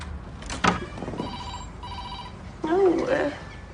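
A telephone rings in short repeated trills, fairly close, with a thud and some rustling mixed in and a voice speaking near the end.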